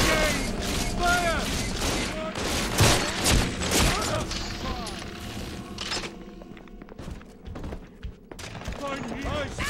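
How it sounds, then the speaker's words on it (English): Rapid bursts of gunfire and booms fill a Bioshock 2 combat scene, sharp repeated shots layered with shouting voices and game effects, easing off briefly toward the end before more shots. "Hey, hey, fire!"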